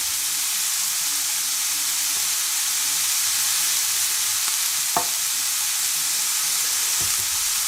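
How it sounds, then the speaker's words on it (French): Pork paupiettes and turned potato pieces browning in a hot pan, giving a steady close sizzle and hiss throughout with a few faint clinks of a utensil. "on fait revenir tout ça"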